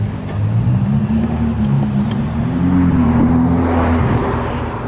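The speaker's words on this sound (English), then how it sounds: "What car is that?" A car engine hums low and steady as the car drives by, fairly loud and close, with a slight rise in pitch partway through and no voices.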